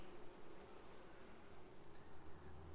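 A swarm of honey bees hums in a steady, faint, continuous drone, with no voices.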